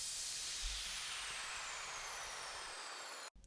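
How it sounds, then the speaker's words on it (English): A long crash cymbal layered under a sweep in an EDM remake, a loud, sustained bright noise wash slowly decaying for over three seconds before stopping abruptly. "And underneath that one I added a crash."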